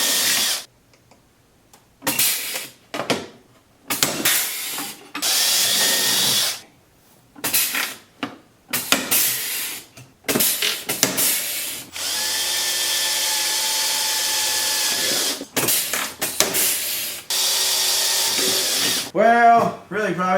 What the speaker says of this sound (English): these pneumatic rivet guns are really slick